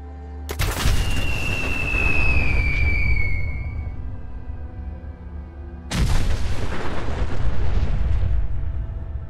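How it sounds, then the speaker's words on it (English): Two heavy explosions from a modded weapon in Fallout 4 boom loudly and close, one near the start and another midway, each followed by a long rumbling roar and the first carrying a high whining tone. "let you guys hear the explosion sound yourself"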